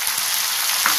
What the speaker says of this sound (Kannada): ಟೊಮೆಟೊ ಸ್ವಲ್ಪ ಫ್ರೈ ಆದರೆ ಸಾಕು.